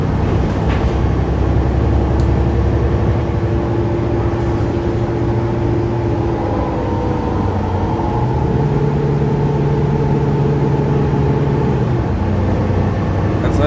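Aboard a Mercedes-Benz O530 Citaro bus in Singapore, SMRT specification: a continuous low engine hum from inside the cabin that shifts in pitch as the bus changes speed, with no voices.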